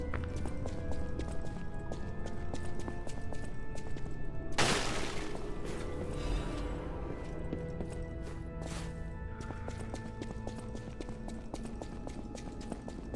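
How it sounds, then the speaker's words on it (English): Footsteps in the video game Lies of P, a steady run of hard clip-clop steps through the whole stretch with a sharp crash partway in, under a busy game soundscape with no speech. "I was listening to the footsteps just now"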